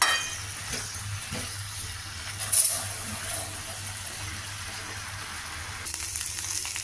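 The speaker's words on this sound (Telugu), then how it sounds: "కాకరకాయ ముక్కలు బాగా ఫ్రై అయ్యాయి" Pieces of bitter gourd fry in a pan, a steady low sizzle with faint clinks of stirring and one brief sharper clatter partway through, no voices.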